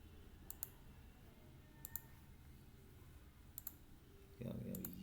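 Sharp mouse clicks land in spaced pairs, four times, over a quiet room hum while someone navigates a website menu built with React.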